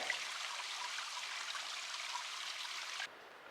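Steady trickling of a small stream along the Pacific Crest Trail, continuous broadband watery hiss that cuts off abruptly near the end.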